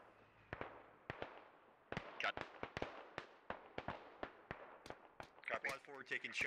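Gunfire in the military shooter game Squad crackles as scattered sharp shots and short bursts, some near and some distant, with radio-style voices talking over the firing.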